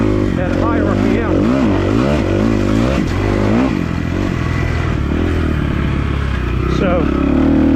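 A Kawasaki KX250F dirt bike on red, green and blue off-road trails revs up and down in loud, close, continuous bursts of rising and falling engine pitch, with a voice talking over it.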